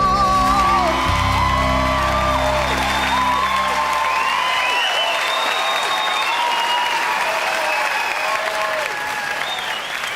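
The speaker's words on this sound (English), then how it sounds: "let's have a big round of applause, please, for Claire Taylor" Game show studio audience applauding and whooping for a contestant, sustained loud clapping with cheers and high whoops rising above it, and a presenter's voice briefly audible at the start.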